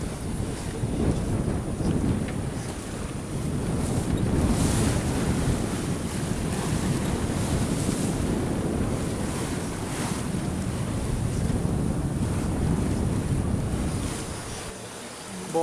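Sea swell and waves wash around a cruising sailboat off Corsica, with steady wind rushing over the microphone, a loud continuous surge that builds and eases, no talking.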